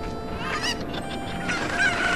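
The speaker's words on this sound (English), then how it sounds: "Yeah, there's a chicken in this box." A chicken in the Zelda Ocarina of Time video game gives a short burst of honking, squawking calls, fairly loud and continuous over a steady game background for a couple of seconds.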